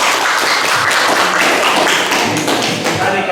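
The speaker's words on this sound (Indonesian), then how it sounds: "Oke, tepuk tangan." A classroom of students claps loudly together after a group presentation, a dense, continuous patter of hands, close and steady, with no talk over it.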